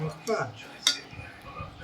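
Plates and cutlery clink during a home meal of chicken, drumstick curry, fried eggplant, boiled potato and dal, with a few brief, sharp knocks over a soft room background.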